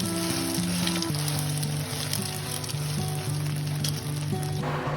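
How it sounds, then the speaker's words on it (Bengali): An egg omelette frying in a pan, a steady crackling sizzle running throughout at an even level, close by, beneath continuous background music. "আর এদিকে ডিমের অমলেটও করে নিচ্ছি"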